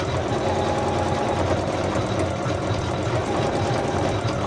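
An embroidery machine stitches out a design on matte fabric, giving a steady, continuous mechanical hum and rapid needle rattle at close range with no voices.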